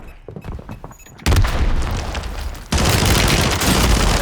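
In Warzone, a bomb blast lands with a heavy boom, then rattling gunfire and a second loud burst follow in quick succession after quieter game sounds.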